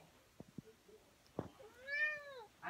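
A house cat gives a single rising-and-falling meow near the end, preceded by a few soft thumps and small household noises in a quiet room.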